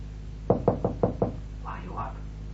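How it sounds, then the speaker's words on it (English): A cautious hand knocks low on a door in an audio drama of Jane Eyre, five close, even taps in quick succession, followed by a soft murmur of voice. "a cautious hand tapped low at the door"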